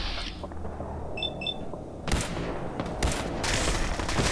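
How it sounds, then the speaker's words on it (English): Distant battle gunfire in Fallout 4's Glowing Sea crackles in bursts behind a steady game soundscape, with sharper volleys around the middle and end. "you can hear the battles going on in the background too"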